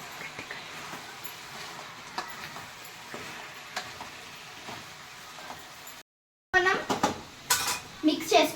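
A tomato, brinjal and potato curry is mixed in a pan with a spoon, giving soft scraping and clinking. After a brief silent break, louder metallic clanks and stirring strokes follow close by.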